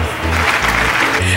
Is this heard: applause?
yes